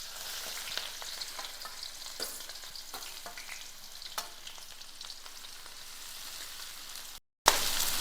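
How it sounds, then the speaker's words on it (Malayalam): Two medium onions dropped into a pan of hot oil, a steady, fairly quiet hiss of sizzling with light crackles, alone without voices, cutting briefly to silence near the end. "2 മീഡിയം സൈസ് ഉള്ളി ഇതിലേക്ക് ഇട്ട് കൊടുക്കാം"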